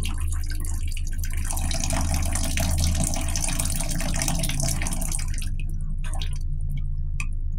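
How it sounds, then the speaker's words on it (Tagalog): A feeble stream of tap water dribbles under very low supply pressure at night, giving a continuous soft splashing wash that suddenly thins to a few scattered drips near the end, over a steady low hum. "ganyan po kahina yung tulo ng tubig"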